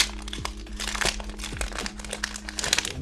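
A Naruto Kayou trading card booster pack is torn open, with steady close crinkling and crackling of foil wrapping over a low background hum, moderately loud and continuous, with no voices.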